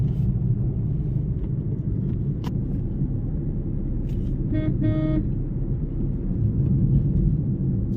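A vehicle rumbles steadily along a road, a continuous low drone with a brief double horn toot midway, heard from inside or close by with no talking.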